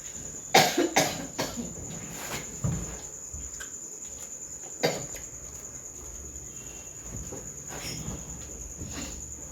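A person coughs several times, a quick cluster early on and then a few isolated coughs, while insects chirp in a steady, high background drone.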